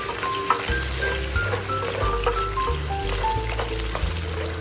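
Garlic and onion sauté in a generous amount of oil, a dense continuous sizzle with faint stirring clinks, close up, with a low background hum and no talking.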